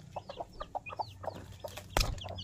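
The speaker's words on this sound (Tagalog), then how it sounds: "Ito yung naglilimlim na manok." A brooding hen clucks in short, repeated soft calls, close and fairly quiet, with a sharper burst of noise near the end against a low background hum.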